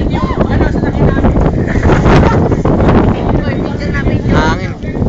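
Loud, gusty wind buffets the microphone in rough rumbling waves while people talk over it.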